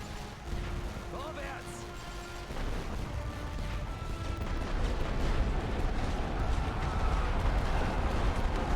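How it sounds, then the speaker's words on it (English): Scattered rifle fire crackles across a World War I battlefield in The Great War: Western Front, a dense rumbling din of distant shots and artillery-like booms building steadily louder, with no voices over it. "And a lot of rifle fire it's taking."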